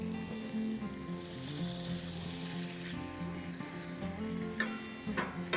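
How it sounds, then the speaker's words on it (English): Four slices of bacon sizzle and crackle in a pan over a campfire beside breakfast potatoes, a loud continuous frying hiss with a few pops near the end, no voices. "We're just gonna throw the bacon right in here."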